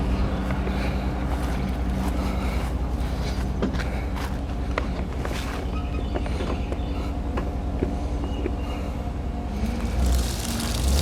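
A pickup in four-wheel drive pulls a car trailer at low speed, its steady engine rumble and rolling rattle continuous and close throughout, with a few knocks and clanks over the drone.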